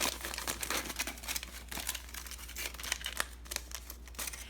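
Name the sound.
aluminium foil being folded over a leaf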